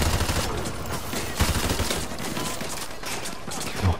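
Automatic gunfire from Call of Duty Modern Warfare 2 rattles in long, dense bursts with sharper single cracks, loud and continuous, with a voice faintly talking underneath.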